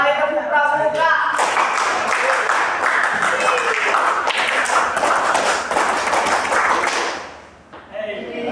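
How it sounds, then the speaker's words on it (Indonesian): A group performs the Indonesian Pramuka scout clap twice in a classroom-style presentation, heard as a loud, rapid patterned clapping burst lasting several seconds, with a person talking briefly before and after it. "2 kali tepuk pramuka."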